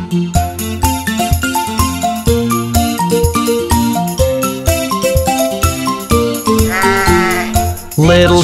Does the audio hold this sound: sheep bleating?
yes